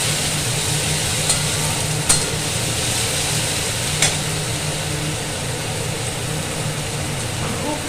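Onions and a chilli spice paste for ghugni fry in a pan with an even, unbroken sizzle, broken only by a few sharp clicks of stirring against the metal.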